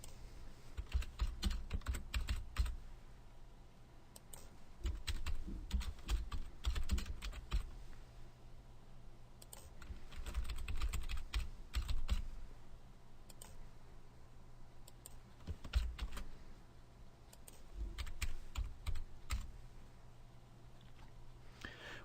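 Fingers type on a computer keyboard to enter an address, giving bursts of quick, close clicking keystrokes separated by short pauses, with no talking.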